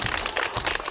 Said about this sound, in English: I think you should give yourselves a clap.